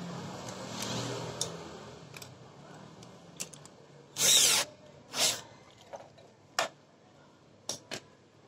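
A power tool driving bolts into parts of a homemade electric car built from scrap, with a loud whirring burst, a second shorter burst and scattered clicks and knocks in a quiet workshop.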